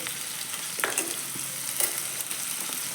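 Green chili and chopped tomato stirred into hot oil in a frying pan for a chicken curry, with a steady close sizzle and occasional scraping strokes of a spatula.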